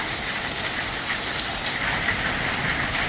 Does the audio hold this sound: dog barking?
no